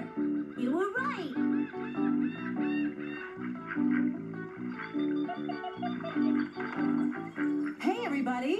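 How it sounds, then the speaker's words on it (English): Birds call repeatedly in honking, clucking bursts, fairly close, with a few sharper cries near the start and end. "Oh, look! There are some birds right there."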